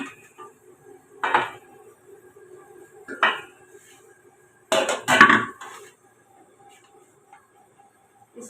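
Cooked beef for malai boti moved from a pot into an open pan, a few distinct clanks and scrapes of metal utensils and cookware in separate bursts, close, with quiet gaps between.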